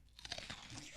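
A bite into a raw onion gives a loud, close crunch that breaks into a few crisp cracks followed by wet chewing, heard alone without speech.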